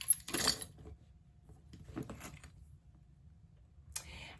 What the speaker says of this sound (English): the last thing that's going in here are my keys that I'm going to put on my key leash